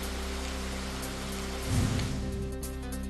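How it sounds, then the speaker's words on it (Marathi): Heavy rain falls in Chiplun, Ratnagiri, a steady hissing wash with a brief louder swell in the middle. "रत्नागिरीच्या चिपळूणमध्ये पावसाचा जोर वाढला"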